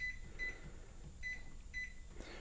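Short electronic beeps from a Cosori air fryer control panel, several brief tones in small clusters, faint over a steady fan hum.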